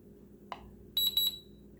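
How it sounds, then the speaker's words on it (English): A JR Propo helicopter transmitter gives a short click and then a run of four quick, high electronic beeps, close and clear against a quiet hum. "you'll hear beeping periodically as you do this"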